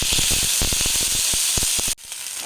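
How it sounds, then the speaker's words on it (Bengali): Ginger garlic paste frying in hot oil in a pan, a loud close hissing sizzle with rapid crackling spits, then a sudden drop before the sizzle returns more quietly. "আদা বাটাটা ভাজা ভাজা হয়ে গেছে"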